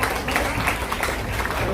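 Applause greets a national-level MMA gold medalist at a welfare trust event, a short, steady patter of many hands clapping, moderately loud and continuous with no talk over it.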